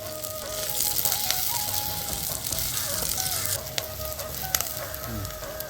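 Onions and slit green chillies with whole spices sautéing in oil for a pepper chicken dish, a quiet continuous sizzle with light clinks and scrapes of stirring, close but low in level, no voices.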